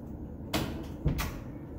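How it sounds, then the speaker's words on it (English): An indoor door in a printmaking studio is pushed shut with two quick knocks, a bump and then a firmer thud, against a steady room hum. "Shut this door."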